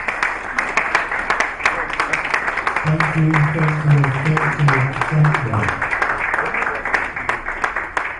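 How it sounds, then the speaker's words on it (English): Applause from a conference audience at a mortgage banking association event runs throughout as dense, steady clapping, with a voice speaking briefly over it partway through. "Please a round of applause for him."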